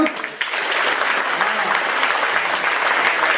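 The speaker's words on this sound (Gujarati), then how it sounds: "એ જોરથી તાળી પાડો" Loud applause from an audience, steady dense clapping that swells quickly and holds throughout without pause.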